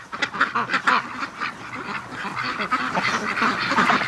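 Ducks quack repeatedly as they rush home at evening, a loud, close chorus of overlapping nasal calls with honk-like notes, busy and irregular throughout without talk.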